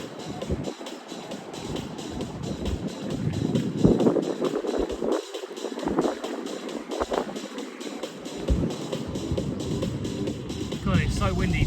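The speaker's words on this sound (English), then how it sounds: "God, it's so windy today, it's unreal." Strong outdoor wind buffets a microphone in heavy, uneven low rumbling gusts that come and go throughout, loud and close, with faint background noise.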